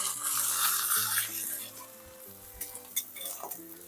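Salmon sizzling on a hot grill gives a steady, close hiss of cooking, with a few faint clinks and scrapes near the end.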